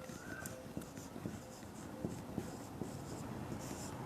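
Chalk or marker taps and scratches on a board in a chemistry lesson, a series of soft irregular strokes and ticks, close and fairly faint, over a low room hum.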